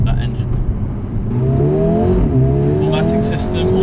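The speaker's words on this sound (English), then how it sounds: "Listen to that engine." Engine of a 2020 Mercedes-AMG CLA 35 revs and pulls hard, a loud rising and falling drone with shifting tone as the car accelerates, close and dominant.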